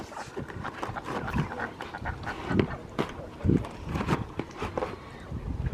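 Duck quacking at a farm pond, several short nasal quacks scattered at irregular intervals amid rustling and movement nearby, moderately loud and close.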